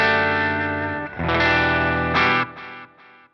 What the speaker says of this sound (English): I think this is a great distortion pedal.